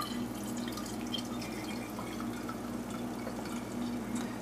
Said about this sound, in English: And then we pour and serve.